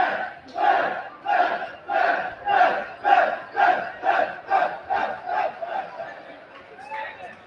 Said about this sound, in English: We got a Dr. Joe chant, we got a Coach Luke chant, and now we got a Coach Fabrizio chant